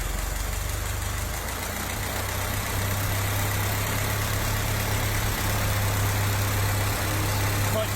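An engine fitted with a Holley vaporizer runs steadily after a timing adjustment, a low, even idle rumble that continues at moderate level without a break.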